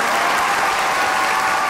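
Studio audience applauding a child musician on a Thai TV talent show, a loud, dense, continuous wash of clapping with no break.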